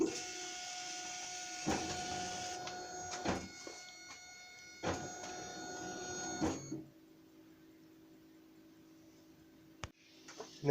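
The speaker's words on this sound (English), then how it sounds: "So I'll hit the power and we'll cut a pattern." A cutting machine works a pattern into plastic at 50% power and 80 mm per second, with repeated mechanical whirring passes and sharp clicks, then quiets to a low hum with a couple of ticks.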